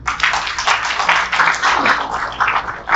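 A church congregation at a Thursday prayer fellowship breaks into applause after the preacher calls for it. It is a dense, loud, continuous wash of many hands clapping, rising and falling slightly, with no voices standing out.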